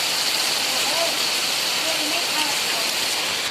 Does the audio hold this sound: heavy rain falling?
yes